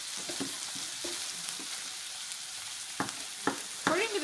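Burger meat searing in a hot pan, a steady loud sizzle throughout with occasional scraping and clinks of a utensil toward the end.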